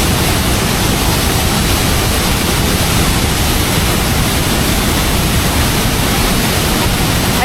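Detian Waterfall on the China–Vietnam border roars at close range, a dense, steady wall of rushing, crashing water filling the whole clip without pause.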